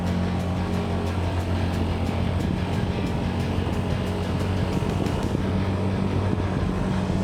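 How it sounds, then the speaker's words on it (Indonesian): A motorcycle engine labours up a steep uphill road near Puncak Bogor, a dense continuous drone with steady low tones and heavy wind buffeting the microphone throughout. "Motor harus benar-benar jaga tenaganya saat melewati tanjakan."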